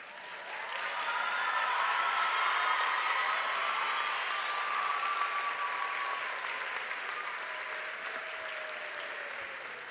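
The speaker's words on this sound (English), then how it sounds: "acknowledge the support of their loved ones with a hearty round of applause" Graduates and guests at a university medicine and health sciences graduation ceremony give a long, sustained round of applause, a dense wash of crowd clapping that swells and then slowly eases, with faint voices underneath.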